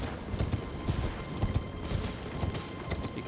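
Hooves of a mounted enemy's horse clop in an uneven rhythm in the video game Elden Ring, moderately loud over a busy game background.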